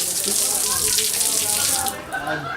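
Water pours steadily from an outdoor shower at a bay resort, a loud hissing spray that eases slightly near the end, with a voice speaking faintly over it.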